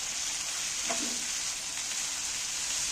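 Ginger garlic paste sizzling in hot oil in a pan, a steady soft hiss with faint crackle throughout, close and fairly quiet, no voices.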